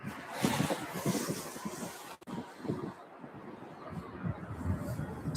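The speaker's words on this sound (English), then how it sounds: "But the wind is making it horrible." Night wind outside Louisville's UPS Worldport airport buffets the microphone in continuous rough gusts, a low rumbling roar with a brief drop near the middle, loud and close.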